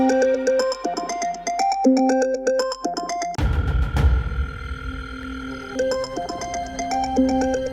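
A phone rings on unanswered, a repeating electronic ringtone melody with a burst of low rumbling noise in the middle, moderately quiet.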